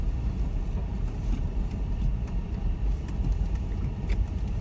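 A 4WD crawls in low range over a rough, loose basalt track, its engine a steady close rumble mixed with constant crunching and rattling from the tyres and body, with no talk.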